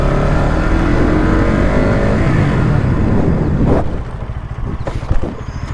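Bajaj Pulsar NS200 motorcycle engine during a wheelie stunt, a loud sustained revving drone that drops off sharply, followed by rougher, choppier engine noise and a few bumps.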